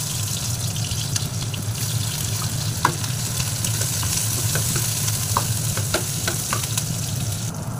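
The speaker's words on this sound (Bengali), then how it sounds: "পেঁয়াজটাও অনেকটা ভাজা হয়ে গেছে" Onions fry in a wok with a loud, steady sizzle over a low rumble, dotted with scattered crackles and spatters throughout.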